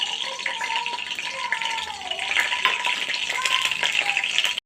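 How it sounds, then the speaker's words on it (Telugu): Masala spices frying in about three tablespoons of hot oil for a boti curry, making a steady, close, continuous sizzle with light rattling throughout, over a faint wavering tone in the background. "ఆయిల్ వేడయ్యాక మసాలా వేసుకోవాలి."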